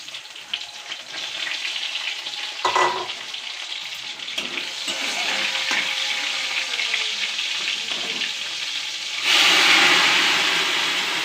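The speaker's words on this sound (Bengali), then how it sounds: "আমি সব সবজিগুলোতে ফোড়ন দিয়ে দিলাম" Vegetables frying in oil with a panch phoron tempering of cumin, mustard, green chilli and ginger, a steady close sizzle with a few stirring knocks, surging into a louder hiss near the end; no talking.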